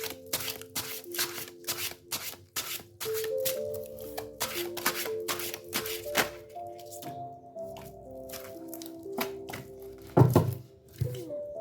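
Tarot cards riffled and laid down in a run of quick, crisp flicks and soft slaps, close up, over a steady tonal background with a brief louder knock near the end.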